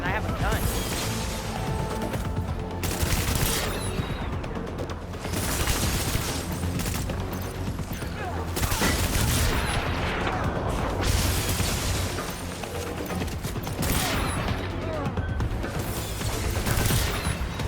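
Dense, sustained gunfire from a weapon in the video game Death Stranding, continuous loud bursts and booms layered over music or game noise throughout.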